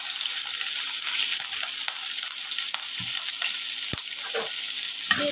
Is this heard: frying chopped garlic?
yes